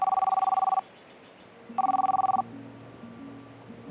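A telephone rings in two short electronic trilling bursts separated by a pause, with faint low tones and some background murmur following the second ring.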